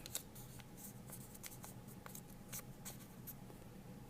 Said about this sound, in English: take a scrap, cut out a rectangular shape like this, and fold it in half